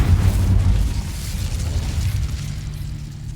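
Deep, rumbling magical explosions from the Confringo and Incendio spells in the video game Hogwarts Legacy, a loud booming blast that slowly fades.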